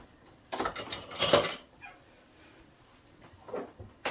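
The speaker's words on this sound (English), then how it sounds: "Got my Easter spatula. And the ketchup. Mix it up a little bit." A spatula mixes ketchup and sauces in a slow cooker, making a few short scraping, clunking strokes close by, then scattered quieter taps and scrapes.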